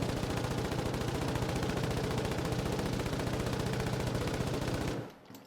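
Rapid, continuous machine-gun fire in a video game rattles loudly for about five seconds, then cuts off abruptly, leaving a brief fading tail.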